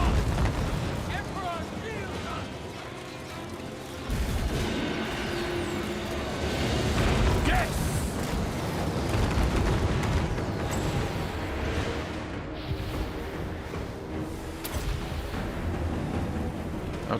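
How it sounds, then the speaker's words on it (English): Heavy booming artillery fire from the video game Total War rolls on continuously in a dense battle din, with repeated explosions over a constant rumble. "my artillery fucked that shit up"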